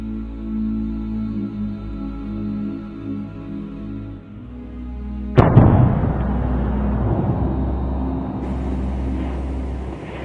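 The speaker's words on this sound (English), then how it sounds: "the magma reaches the surface area with the lowest pressure and a bang" A sharp bang as magma bursts through the surface in a volcanic eruption in Iceland's Svartsengi system, breaking over a steady low rumble and followed by a sustained roaring, crackling wash of noise.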